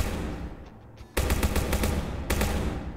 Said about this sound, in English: Shooting range is badass. It's loud.